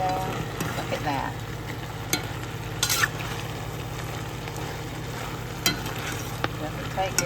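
Green beans and potatoes cook down in a pot on the stove, a steady soft simmer and sizzle running throughout, with a few light clinks and stirring taps close by and no talk.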